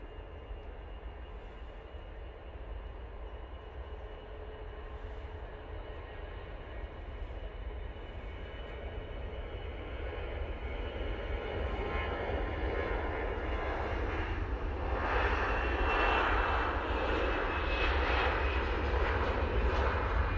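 At Manchester Airport, an EasyJet airliner's engines rumble at a distance, faint at first and then swelling into a broad roar over about twenty seconds as it departs, with no voices.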